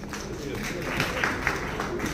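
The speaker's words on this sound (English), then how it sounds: "Round of applause," Audience applause greets a KPMG India partner invited onstage for a panel at the GOTS 2025 event, steady dense clapping throughout with some background voices.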